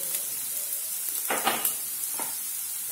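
Ginger garlic paste and onion sauté in a pan, filling the space with a close, steady bright sizzle. Two or three stirring scrapes cut through it, most clearly around the middle.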